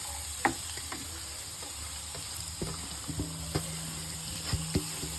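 Carrots frying lightly in a pan, a soft steady sizzle running throughout with scattered clicks and gentle scrapes of stirring, fairly quiet and close with no talking.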